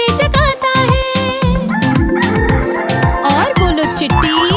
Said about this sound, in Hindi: मुर्गा सुबह कुकड़ू कू करके हमें नींद से जगाता है।